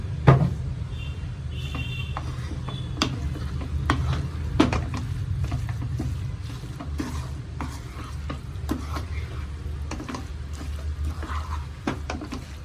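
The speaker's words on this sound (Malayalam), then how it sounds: "ഇത് നന്നായിട്ട് ഇളക്കി യോജിപ്പിക്കാം." A thick mango pickle mixture is stirred with a spoon, giving a steady low scraping and squelching with a few sharp clicks against the container, close and continuous, with no talking.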